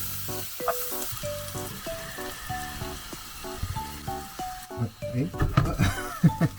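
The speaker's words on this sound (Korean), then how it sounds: "그 다음 다진 양파를 넣고 황금빛이 돌 때까지 잘 볶다가 여기에 준비해둔 냉동 야채까지 넣고 잘 섞어가며 볶아줍니다" Chopped onion and frozen vegetables stir-fried in a pan give a steady close sizzle, with scraping stirs, alongside a light melodic tune.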